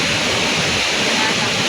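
Nonok Falls in Quezon roars as a steady, dense wash of falling water, loud and continuous throughout with no break or change in level.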